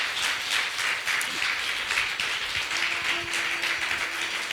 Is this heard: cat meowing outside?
no